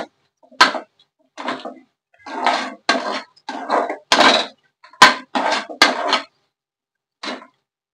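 A spatula scrapes and clinks in a pan while stirring a garlic-chili egg fry with salt, a series of separate short scraping strokes with quiet gaps between them.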